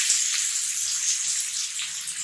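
Half a cup of water is poured into a pan of frying ginger, garlic, ketchup and peri peri sauce, giving a steady hissing sizzle with faint bubbling throughout.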